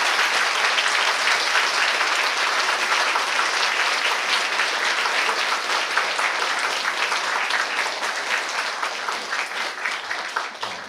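Long, steady applause from a church congregation at a whole-church retreat Sunday service, dense and sustained throughout before thinning slightly at the end.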